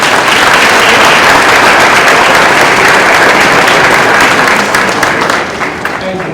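A loud round of applause from a crowd in a school gymnasium at a winter sports awards event, dense and continuous before easing slightly near the end.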